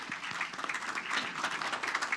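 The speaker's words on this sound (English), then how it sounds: "Let's give a round of applause" Steady applause from a gathered council meeting audience, a dense patter of many hands clapping together at moderate distance, continuous for a couple of seconds.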